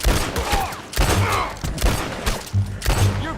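Loud gunshots in a tense armed standoff, several sharp blasts spaced about a second apart, close and booming, with a faint voice in the background.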